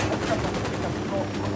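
Gunfire in the tactical shooter Ghost Recon Wildlands, a steady rattle of shots blending into a continuous noisy bed with voices talking over it.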